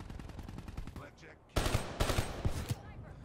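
Rapid bursts of submachine-gun fire from the Kuda with rapid fire in Black Ops 3, loud and close, in two dense volleys after a short lull, with a voice briefly in the mix.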